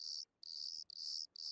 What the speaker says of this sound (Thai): เสียงจิ้งหรีดร้องนะฮะไม่มีเพลงประกอบ